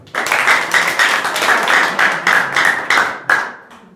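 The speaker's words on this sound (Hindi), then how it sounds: "इनके लिए जोरदार ताली दो।" Students clapping loudly together at an inter college, a dense, close burst of rhythmic hand claps that holds for several seconds before tapering off.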